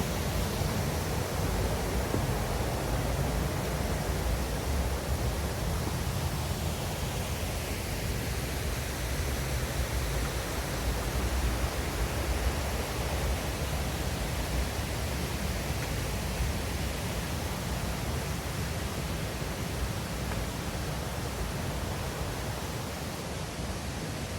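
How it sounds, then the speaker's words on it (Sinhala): A forest stream rushes under a bridge in dense jungle on an off-season Sri Pada hike near Dehanakanda and Mukkuwatta. The water makes a steady, broadband roar that stays close and even throughout, with no voices. "කොහොම ගලාගෙන ඇවිල්ලා මේ පාලම යටින් පහළට ගලාගෙන යනවා"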